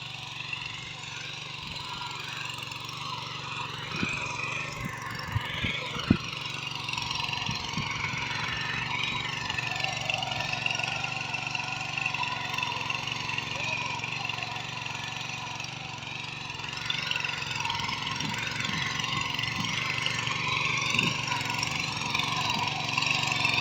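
Small lightweight plough machine engine running in a farm setting, a steady mid-pitched mechanical drone with some irregular knocks and rattles, fairly distant and moderate, with faint voices at times.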